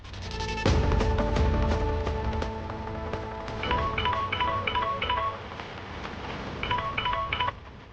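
A phone rings for an incoming call after missed calls, a loud close electronic ringtone of repeated beeping tone bursts, no talking.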